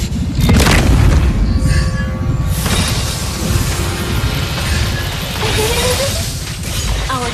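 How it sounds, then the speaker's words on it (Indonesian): A turret blows up in a multiplayer video game, a loud deep boom with crashing, shattering debris layered over dense game noise and effects throughout. "Our turret has been destroyed."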